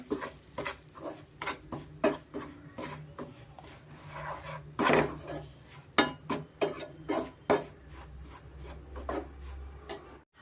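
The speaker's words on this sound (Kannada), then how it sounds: "ಇದಕ್ಕೆ ನಾನು ರವೆನ ಹುರ್ಕೊತೀನಿ ಮೀಡಿಯಂ ಫ್ಲೇಮಲ್ಲಿ ಇದು ಇರೋ ತುಪ್ಪದಲ್ಲಿ ನಾವು ಚೆನ್ನಾಗಿ ರವೆನ ಸ್ವಲ್ಪ ಹುಡ್ಕೊಬೇಕಾಗತ್ತೆ" Semolina (rava) stirred and roasted in ghee in a pan over medium flame, a steady run of close scraping, rasping strokes of a spoon against the pan bottom, each stroke short and rhythmic, with no talking.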